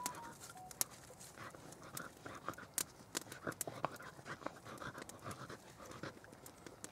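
A dog pants steadily and close by at a wet outdoor campsite beside a smoky fire, with scattered crackles and sharp clicks over the breathing.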